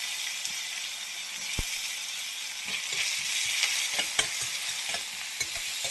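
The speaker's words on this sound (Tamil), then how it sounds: "வெங்காயம் வதங்க தக்காளி சேர்த்துக்கோங்க." Onions and tomatoes sauté in a pan while being stirred, giving a continuous close sizzle with frequent scraping and clicking strokes of the spoon that grow busier toward the end.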